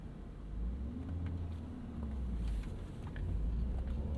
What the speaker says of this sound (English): let's go ahead and take this 735i out on the road